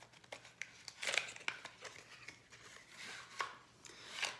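Crayons scratching and rubbing across a card while decorating a dinosaur card, with faint irregular scratchy strokes and light taps, quiet and close.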